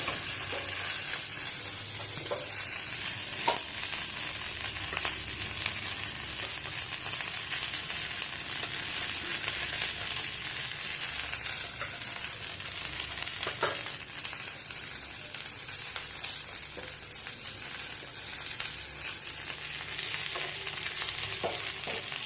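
Semolina masala for idli fries steadily in a pan, giving a continuous, moderately loud sizzle with occasional soft scrapes of stirring and no speech.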